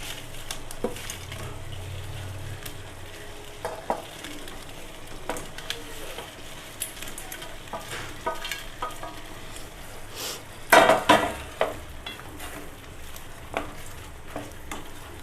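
Eggs stir-fried with ground pepper in a pan for egg manchurian, a steady low sizzle with scattered utensil scrapes and a brief louder clatter of stirring near the end, no voices.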